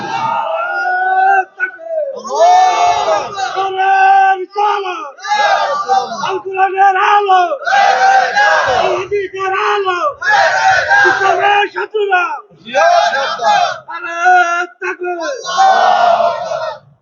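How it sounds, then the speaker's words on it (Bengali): A large crowd at a religious gathering shouts slogans in repeated bursts, hands raised, with loud call-and-response rhythm and short pauses between the chants. "কারা কারা রাজি আছেন দুহাত উঁচু করে স্লোগান দিয়ে আল্লাহর দেখান"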